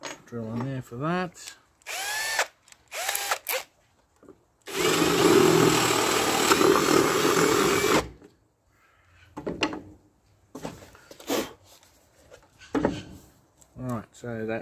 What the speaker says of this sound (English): Put the big drill on there for that.